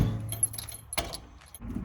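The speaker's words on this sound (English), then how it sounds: "And they come with keys and they lock." Metal keys jangle close up while handling the locks on a bus storage box added to a school bus conversion, a few short rattling bursts with light clinks between.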